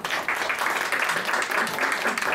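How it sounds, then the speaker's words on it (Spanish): Audience applause for seminar speakers at an academic conference session, a dense steady clapping close and continuous for the whole stretch. "también un aplauso,"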